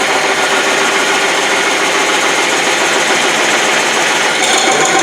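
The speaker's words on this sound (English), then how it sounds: "See, it's really cutting good because of the wet wood." Wood coring machine running at 145 RPM cutting into freshly sharpened wet wood, a loud, continuous grinding drone with mechanical rumble, steady throughout with no talking.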